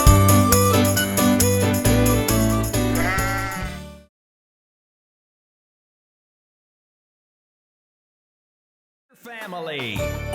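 A sheep bleat from a children's nursery rhyme. Bright backing music plays first, then it cuts to silence for several seconds, and a single loud, wavering bleat sounds near the end.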